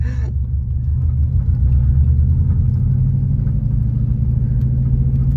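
A manual-transmission car pulling away in first gear, its engine a steady low rumble heard from inside the cabin, loud and continuous with no voices.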